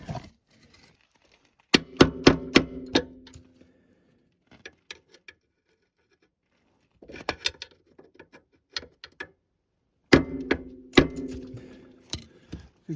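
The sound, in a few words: hammering screwdriver to bend metal lip on ATV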